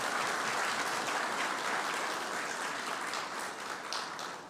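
A conference audience at a Caribbean regional water loss event claps steadily, a dense, sustained round of applause that fades slightly toward the end.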